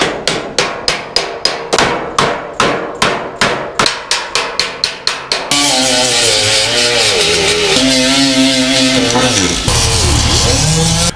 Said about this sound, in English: we'll start doing a little hammer and dolly work